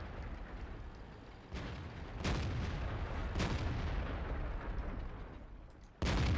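A tank cannon in World of Tanks fires a few heavy, rumbling shots against a dense background roar of battle, with the loudest blast landing near the end.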